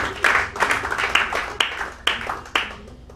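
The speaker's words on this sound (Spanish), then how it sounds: "démonos un aplauso por haber venido a media semana" A church congregation at a midweek service bursts into applause, a dense wash of many hands with a few louder strikes standing out, steady for about three seconds.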